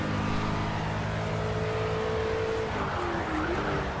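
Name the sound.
racing car engine revving in video game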